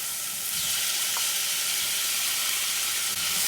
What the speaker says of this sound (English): Now, we cook the onion for a few minutes, maybe until they become a little bit softer.